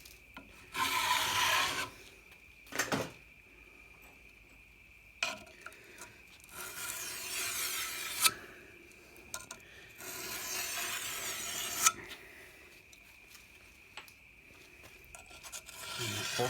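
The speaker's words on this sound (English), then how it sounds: "Just give another touch up on the top surface. Very little weight being applied to this file." A hand file rasps over the top surface of a mower bed knife under very light pressure, in short bursts of scraping strokes separated by quiet pauses, close and crisp.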